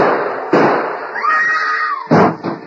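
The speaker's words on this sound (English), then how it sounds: "Shooting in old Eli's house." Two sharp gunshot sound effects from a 1942 Lone Ranger radio drama, loud bangs about one and a half seconds apart with a thin ringing tone between them.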